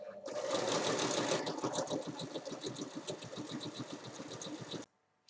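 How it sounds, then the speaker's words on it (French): An overlocker sews a seam on a cushion cover with a fast, steady mechanical whir that runs for several seconds and then stops abruptly. "Et une fois assemblée, on vient ensuite surjeter la couture."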